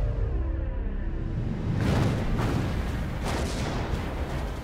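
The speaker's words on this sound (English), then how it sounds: "The Johnston opens fire with her few remaining 5-inch guns." The World War II destroyer USS Johnston fires her 5-inch naval guns, with heavy booming blasts and rumbling reports swelling over a continuous low roar.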